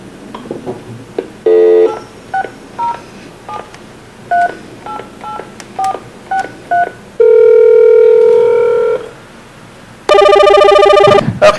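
Telephone keypad tones from a phone call, a rapid run of short loud beeps followed by longer sustained dialing and ringback tones, clear and close.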